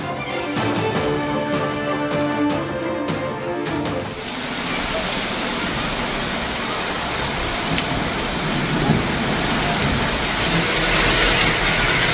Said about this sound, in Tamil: திருத்தணி சுற்றுவட்டார பகுதியில் வெளுத்து வாங்கிய கனமழை.